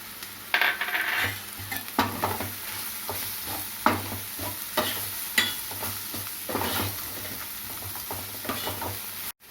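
Whole spices, star anise and bay leaf, frying in oil in a pan for a meal maker curry, with a steady sizzle and repeated scraping stirs throughout, close and fairly loud, no talk.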